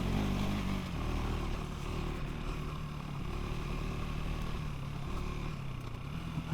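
KTM 390 Enduro R motorcycle riding a steep, bouncy trail in third gear, its single-cylinder engine droning steadily and rising and falling in pitch, close and continuous with light clatter.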